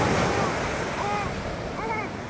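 Sea waves washing onto a beach, a continuous rushing surf with wind noise buffeting the microphone and faint voices in the background.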